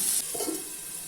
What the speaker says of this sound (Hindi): ऑनियन को मीडियम फ्लेम पे 3 से 4 मिनट तक गोल्डन ब्राउन होने तक फ्राई कर लेते हैं